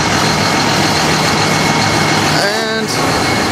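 A heavy tractor engine runs loud and steady with a deep rumble on a grass farm where a slurry trailer is hitched, and a brief whining tone rises near the end.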